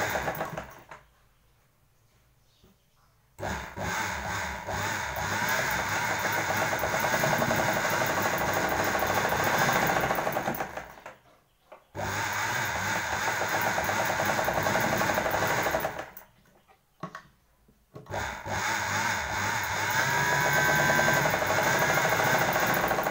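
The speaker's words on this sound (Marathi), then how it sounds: "आपल्याला या पिशवीच्या ही बाजू आणि ही बाजू स्टिच करायची" An electric sewing machine stitches up the sides of a homemade cloth bag sewn from waste fabric, running in steady motorized bursts with short quiet pauses between seams.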